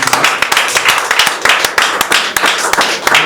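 A church congregation claps in praise of the Lord, many hands striking sharply in a fast, fairly even rhythm, loud and close, with no talk over it.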